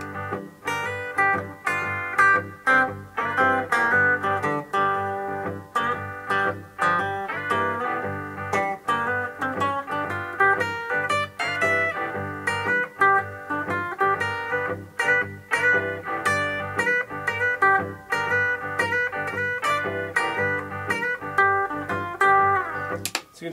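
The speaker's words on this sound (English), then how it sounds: "you can always do a hammer-on or a slide" Electric-style guitar playing a flowing line of plucked notes with smooth hammered and sliding transitions, steady and moderately loud, no talking.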